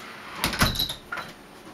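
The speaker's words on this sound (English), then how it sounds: "damn, wind blew the door open." Wind blows a door open: a short rattling bang followed by a creaking swing and a smaller knock, close and fairly loud, with no other sounds around it.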